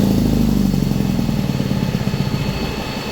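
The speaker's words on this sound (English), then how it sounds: "The JB is not as loud as the diesel motor." An Onan JB generator engine running under a load bank test, a loud, steady, close mechanical drone with rapid rhythmic firing throughout.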